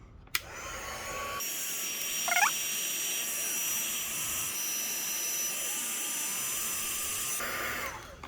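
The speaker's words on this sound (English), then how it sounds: "now we'll turn on the heat gun" A heat gun blows hot air during a kid's headphone repair, switching on with a click and settling into a loud, steady whooshing roar close by, then cutting off near the end.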